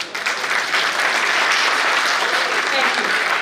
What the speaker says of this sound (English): A great round of applause for sir.